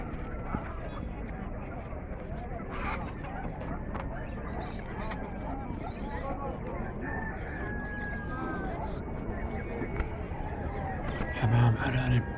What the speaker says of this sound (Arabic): دجاج مولود بكثرة ما شاء الله.